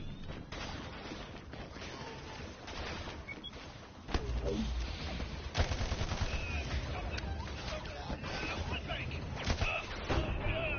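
Video game gunfire crackling in rapid bursts under a busy, noisy mix, with louder clustered shots after a sudden jump partway through.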